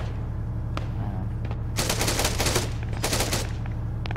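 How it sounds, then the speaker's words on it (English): Automatic gunfire in Arma 3 during a King of the Hill tower fight, two rapid bursts of close shots over a low engine hum, with a few single cracks before them. "I think he's shooting through the floor?"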